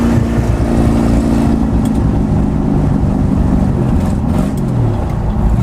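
A barn-find Continental car, back on the road after 35 years, stuck in first gear: its engine drones loud and close, a steady low rumble with no break and no voices over it.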